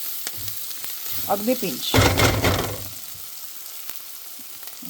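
Onions frying with a pinch of salt for paneer bhurji. A soft sizzle swells into a loud, crackling burst for about a second, then settles back to a quiet hiss, with a voice speaking briefly.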